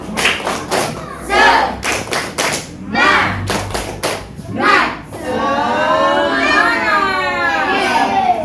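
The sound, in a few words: schoolchildren doing a rhythmic spirit clap in class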